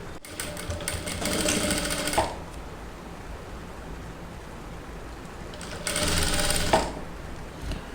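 Electric sewing machine stitching a designer blouse, running in two steady whirring bursts of about two seconds each, separated by a quieter pause.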